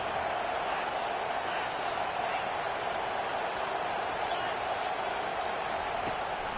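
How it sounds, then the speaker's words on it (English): A college football video game stadium crowd, LSU Tigers against Nebraska, roars steadily and loudly throughout, a dense unbroken wash of cheering with no clear individual voices. "this crowd trying to help keep them there."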